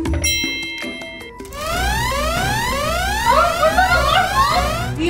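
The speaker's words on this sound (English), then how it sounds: "The alarm is going off" A household alarm goes off indoors after a chime-like tone, then repeated rising electronic sweeps wail over and over, loud and close, layered with bright ringing tones.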